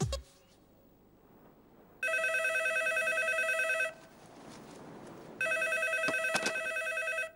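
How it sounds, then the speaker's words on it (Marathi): A telephone rings in two long electronic bursts separated by a short quiet gap, loud and close in an otherwise quiet room. "फोन आलाय, पण ऐका ऐका, फोन घेऊ नका."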